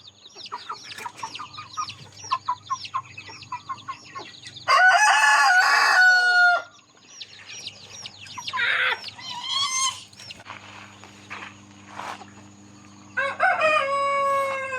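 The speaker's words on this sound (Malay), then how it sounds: "Okay, anak ayam yang baru pun dah masuk sini." Chickens and chicks cluck and chatter close by, with a rooster crowing loudly several times over the busy, continuous flock noise.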